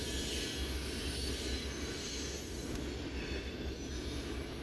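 A freight train rolls past close by in a continuous, loud, broadband roar of wheels on rail, with faint squealing and steady rumble throughout and no voices.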